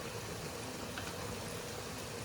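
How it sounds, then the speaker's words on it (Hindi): Warm water being poured into a cooking pot of meatballs, a steady close broadband pouring and splashing rush that holds an even level from start to finish with no talk. "और इसमें पानी मिला लेते हैं"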